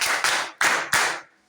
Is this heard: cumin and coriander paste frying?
no